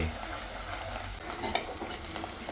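Onions frying in a pan with oil, a steady close sizzle broken by occasional scraping stirs of a spoon, moderately loud with no talk.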